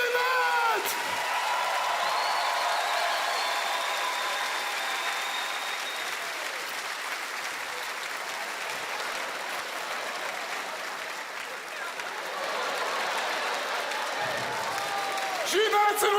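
Sustained audience applause fills a French comedy-magic stage show, a dense, steady roar of clapping from a large crowd with scattered whoops, easing slightly midway and swelling again near the end.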